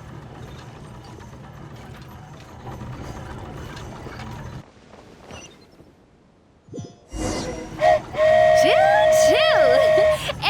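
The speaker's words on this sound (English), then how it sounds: "Choo-choo! Aerial Express moving out." In the Genshin Impact video game, the Aerial Express flying train sounds a loud, sustained whistle as it departs. The whistle arrives late, after quieter rumbling, and rings with bright tonal wavering over engine noise.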